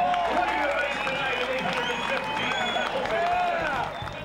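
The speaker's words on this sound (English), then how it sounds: "let's give this man a great round of applause" Audience at the Monterey sports car auction applauds after a Jaguar sells, a dense sustained wash of clapping with whistles and cheering voices that holds steady and eases slightly near the end.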